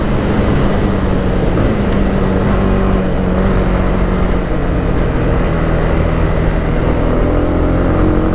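Honda CB300R motorcycle riding along a rough, bumpy country road, with a continuous loud engine drone mixed with heavy wind noise, close and steady throughout.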